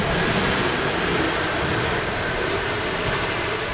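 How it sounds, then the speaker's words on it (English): A Jet2 Boeing 737-800 arriving at Manchester Airport produces a loud, continuous broadband jet roar that holds steady without any break. "There's Jet2 737-800 in from Rhodes in the .com scheme."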